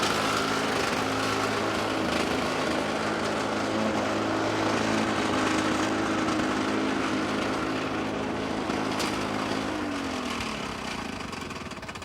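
Small two-stroke engine of a power trimmer running steadily while lawn edges are trimmed, loud and close with a droning whine throughout, easing slightly near the end.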